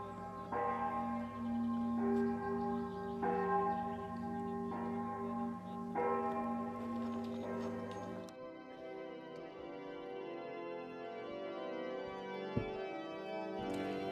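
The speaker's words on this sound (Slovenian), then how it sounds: "slišali mogočni zvon, ki je vabil k popoldanskemu bogoslužju" The large church bell of the Sveta Gora sanctuary, on a rocky mountain above Gorica, tolls in repeated rich resonant strokes, then its long humming overtones ring on and slowly fade, heard from a moderate distance.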